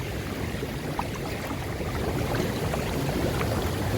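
Steady, even rush of a small waterfall splashing into a swimming hole, a constant close wash of water with no voices.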